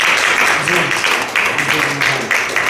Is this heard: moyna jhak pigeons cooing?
no